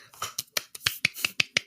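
A handful of sharp, close handclaps from people in a podcast studio, about nine quick slaps in an uneven rhythm, dry and fairly loud with nothing else around them.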